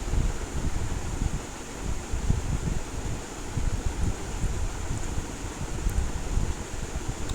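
Small pieces of evening snack dropped one by one into oil over medium flame, giving a steady, dense crackling sizzle with no one speaking.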